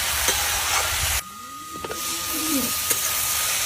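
Fresh garden radish frying in a pan for a fish-head ghonto gives off a steady close sizzling hiss that drops out briefly partway through and then resumes.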